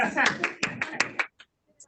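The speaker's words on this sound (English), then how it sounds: "Round of applause, Zoom land." Applause from an audience at a real estate training session, heard as a short burst of sharp, close handclaps that thins out and stops within about a second.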